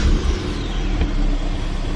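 A Ford Fiesta ST engine turns over and catches, then runs loud and close with a rough, steady rumble for a couple of seconds.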